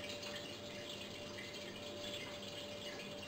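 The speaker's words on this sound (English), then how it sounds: "Then listen to the water trickle into an old steel bath." Water trickling into an old steel bath on an allotment, a quiet continuous wash of running water with a faint steady tone, even in level throughout and with no talk.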